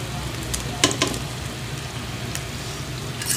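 Malagkit ube rolls frying in hot oil give a steady soft sizzle with a few sharper crackles and pops near the start, close and alone without talk.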